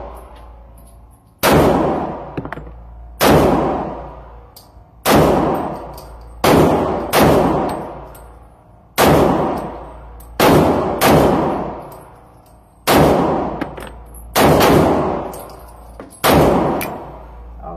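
A Ruger P94 pistol fires at an outdoor shooting range: about ten loud, sharp gunshots, each with a ringing decay, spaced irregularly one to two seconds apart.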